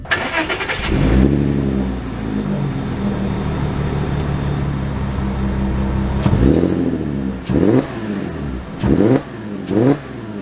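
An original Porsche Cayenne with 162,083 miles cranks and fires up, settles into a loud, close idle, then revs several times in short bursts as it pulls away.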